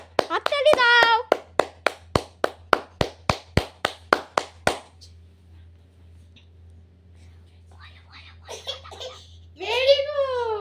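Children clap hands in a steady run of about fifteen sharp, evenly spaced claps, close and loud, with a voice at the start and voices and giggles after the clapping stops.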